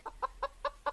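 Chicken clucking in a farmyard, five short, evenly spaced clucks in quick succession, fairly close and clear over a quiet background.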